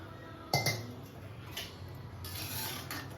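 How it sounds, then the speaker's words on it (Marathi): A lid is set onto a pan of paneer tikka masala gravy with a sharp metallic clink, followed by a softer rattle and some light clattering, faint against a quiet kitchen. "तर आपण हे झाकण लावून ठेवू."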